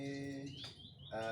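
White-rumped shama (murai batu) songbirds at a breeding farm sing close and loud, with rich, buzzy harmonic calls and sharp high whistles overlapping continuously for a little over a second, with no speech.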